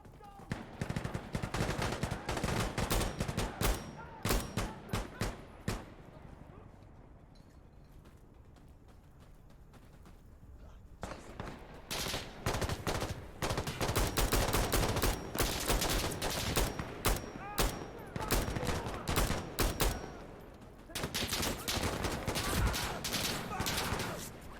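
Dense bursts of automatic rifle fire and rapid gunshots in the Insurgency: Sandstorm shooter, loud and nearly continuous with a brief lull midway, mixed with game combat effects.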